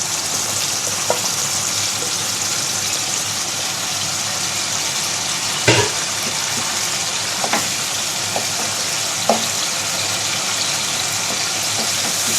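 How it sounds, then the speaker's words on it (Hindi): Minced meat fries in oil in a kadai, giving a steady close sizzle and hiss with a few brief stirring clinks and scrapes, no voices. "अब हम कढ़ाई में इसको भूनेंगे। उसी ऑयल में हमने कीमे को ऐड कर दिया है।"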